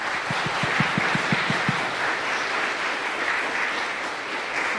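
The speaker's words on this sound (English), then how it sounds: "Stand up and get one more little round of applause." Applause from an audience at a piano recital in a church, a few sharp nearby claps at first, then a sustained, moderately loud patter of clapping throughout.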